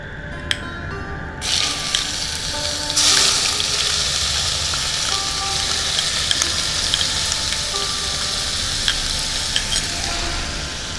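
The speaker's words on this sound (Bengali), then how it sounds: "এবার পেঁয়াজ বাটাটা দিয়ে দিচ্ছি।" Onion paste goes into hot oil with bay leaf and tempering spices and fries with a loud, continuous hiss. The sizzle rises sharply as the paste lands and stays dense and close, with small pops and clinks.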